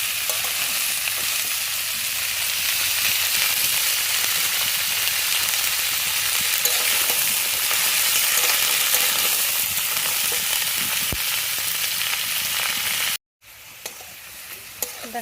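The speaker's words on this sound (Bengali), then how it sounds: "লাল লাল করে মূলোটা আমার ভাজা হয়ে গেছে" Radish pieces fry in a pan, a loud, continuous hiss and sizzle with faint stirring scrapes, cut briefly by a moment of silence before quieter sizzling resumes.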